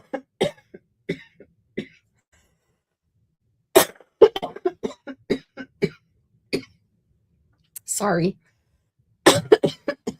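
Several dry coughs and throat clearings in short clustered bursts, close and fairly loud, with a brief spoken word in between and quiet pauses separating the fits.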